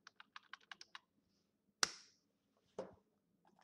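A short run of quick keystrokes as code is typed on a computer keyboard, heard close up, then a louder single key clack and one more tap after a pause, in an otherwise quiet room.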